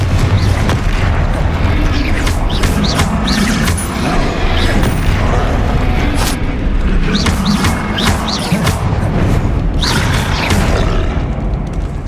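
Repeated spell blasts from Bombarda and Confringo boom through combat in the Hogwarts Legacy video game, loud and continuous, with layered bursts and crackling impacts over a dense rumbling bed.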